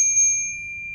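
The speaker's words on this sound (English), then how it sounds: "I want to show you guys my little gong thing." A small gong chime is struck once, giving a bright, pure metallic ring that holds steady and fades slowly in a quiet room.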